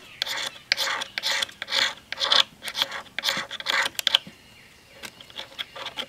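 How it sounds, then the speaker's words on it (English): A ferro rod scraping magnesium shavings into a pile for a firesteel and fatwood fire: a run of about a dozen harsh, rasping strokes in quick rhythm, close and fairly loud, then a brief quieter pause with a few lighter scrapes. "you want to start taking and scraping some of the magnesium off"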